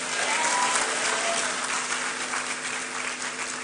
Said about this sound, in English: will the ladies also clap for them?